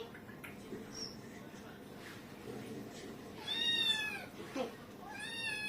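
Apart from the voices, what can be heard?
pet cat meowing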